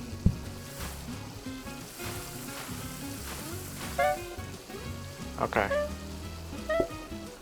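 Food sizzling on a stove in the cooking game PlateUp!, a steady faint frying hiss with a few brief clinks and chimes, while someone briefly talks.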